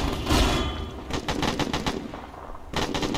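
Arma 3 military simulation firefight in Afghanistan: bursts of automatic gunfire and single shots crack in rapid clusters, moderately distant, with a short pause before a final volley; no talk.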